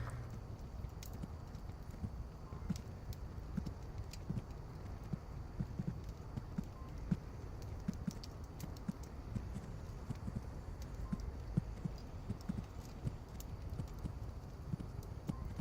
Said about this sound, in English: It's thumping in the background, that must be their footsteps echoing through this valley.